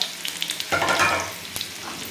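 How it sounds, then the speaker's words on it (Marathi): Finely chopped medium onion frying in about two and a half spoons of hot oil for tawa mutton, a dense close sizzle that swells as the onion hits the pan, with a few light utensil taps. "मिडियम साईजचा कांदा आपण कट करून घेतला बारीक असा"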